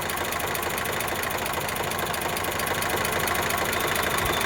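An Eicher 368 tractor engine runs steadily nearby, a loud, even diesel chug with a constant rhythmic throb and no voices.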